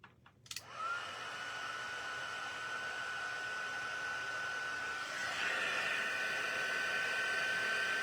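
A heat tool melting embossing powder blows a steady, whooshing hiss after a brief click, with a high whine running throughout and a slight rise in loudness partway through.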